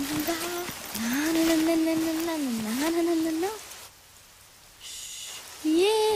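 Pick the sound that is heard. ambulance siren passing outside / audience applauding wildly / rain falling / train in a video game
rain falling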